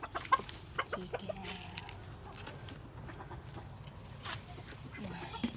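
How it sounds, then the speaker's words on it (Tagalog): Chickens at feeding time give soft, scattered clucks and short calls at moderate distance over a quiet outdoor background, with brief pecking-like taps and no speech. "Pa-snackin muna natin yung mga chicken natin"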